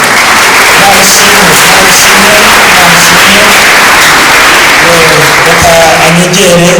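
A church congregation applauds loudly and continuously, with a dense wash of clapping mixed with voices throughout.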